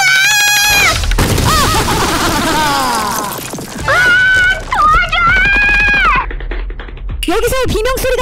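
Screams and high shrieks from characters in a Poppy Playtime Chapter 3 animation, loud, strained and repeated across the clip, mixed with dramatic sound effects.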